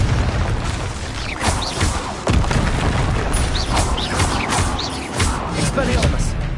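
Booming spell explosions from Bombarda and Confringo in the video game Hogwarts Legacy go off repeatedly in a loud, busy stretch of thuds and bursts, with talking over them.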